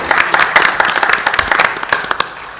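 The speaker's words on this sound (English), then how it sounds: "Clap it up for Coach Himmelman." Brief burst of crowd applause at a school board of education meeting, many hands clapping together in a dense, lively patter.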